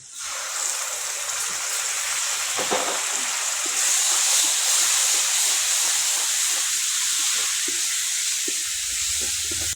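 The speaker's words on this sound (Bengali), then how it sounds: "এখন আমি পেঁয়াজ বাটা দিয়ে দিলাম পরিমাণ মতো" Onion paste sizzles and hisses steadily in a hot pan while cooking for Bengali-style rui fish kaliya, a close, even frying crackle with faint occasional stirring scrapes.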